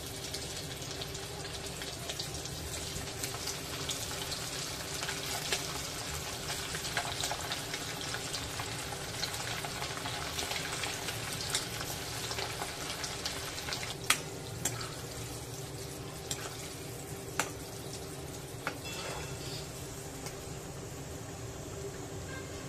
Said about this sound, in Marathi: अशा प्रकारे सर्व मांदेली फ्राय करून घेऊया।